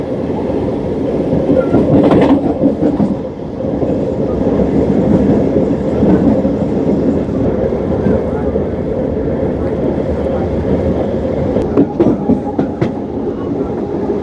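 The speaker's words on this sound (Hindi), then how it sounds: "बहुत प्यारी दिख रही है भाई लोकल ट्रेन यहाँ पे।" A MEMU local train runs on the Durg–Gondia line near Darekasa Ghat. Its loud, steady rumble of wheels on rails goes on throughout, with clickety-clack knocks and sharper clanks near the start and toward the end.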